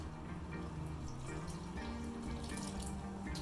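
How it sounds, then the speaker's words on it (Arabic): A cup of warm water is poured over flour and salt for Turkish simit katmer dough, giving a soft, steady, continuous watery trickle heard fairly faint and alone. "واضيف فوقها كوب واحد مي دافي"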